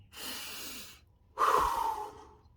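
Two deep breaths from a person who has quit smoking, each a long, close, airy rush of air lasting about a second, the second stronger and more forceful, with a short quiet pause between them.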